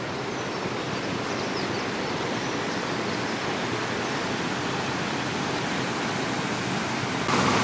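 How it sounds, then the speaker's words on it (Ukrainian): Water from a lock pours into a bypass well, a steady broadband rushing roar that holds constant throughout with no voices. "Вода з обідного шлюзу попадає в перепускний колодязь труби наповнюється колодязь"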